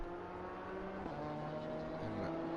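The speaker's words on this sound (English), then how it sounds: "As the number 55 car traverses his way through the chicane." Race car engine in a sim racing game at Imola, droning steadily through a chicane with shifting pitch as it brakes and reaccelerates, fairly loud and continuous with no talk.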